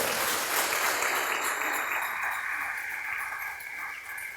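Church congregation applauding during a sermon, a broad wash of clapping that is strongest at first and slowly thins and fades over four seconds, with no speech on top.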